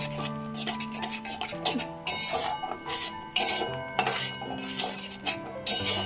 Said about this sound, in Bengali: এবার বেশ কিছুটা ক্ষণ আমি এটা নাড়বো।